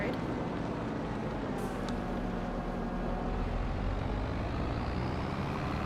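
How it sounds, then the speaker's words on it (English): Vehicle driving on a road in the video game Farming Simulator 25, a steady low engine drone and rumble with tyre noise, fairly constant and alone throughout. "And then let's see what it sounds like on the road."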